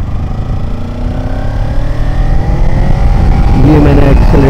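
A Kawasaki Ninja 300 twin-cylinder motorcycle accelerates up through the gears, its engine note climbing steadily in pitch. The sound is loud and close, as if recorded from the rider's position, with steady wind roar underneath.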